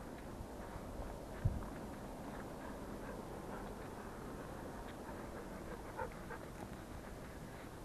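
Several dogs run along an outdoor trail, their paws pattering and panting steadily under wind or handling noise, with one sharper thump early on.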